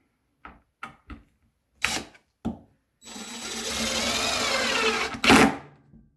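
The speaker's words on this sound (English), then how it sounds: "And then we'll put some screws in." A few short clicks and clunks, then a power driver whirring for about two seconds as it drives a screw into wood at a bathhouse, ending in a louder burst; close by and with no talking.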